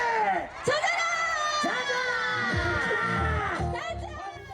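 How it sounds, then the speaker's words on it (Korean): People at a tomato festival cheer, whoop and shriek as they rush into a tomato-filled pool, a lively, excited crowd close by with high voices rising and falling over the splashing. "환호성과 함께 토마토 풀장으로 뛰어 들어가는 사람들"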